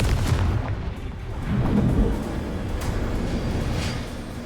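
Confringo fire spell exploding in the Hogwarts Legacy video game, a loud continuous rumbling blast with booming low end that holds steady for several seconds.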